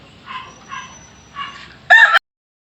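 Six-month-old SBR Super Brown Red chickens, hens and pullets kept in a cage, give three soft clucks close by and then a short, loud, harsh squawk or crow before the sound cuts off.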